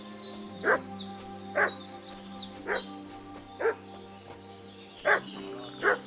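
A dog barks repeatedly in the medieval game Kingdom Come: Deliverance 2, six evenly spaced single barks at moderate distance over a low droning ambient background with faint chirping.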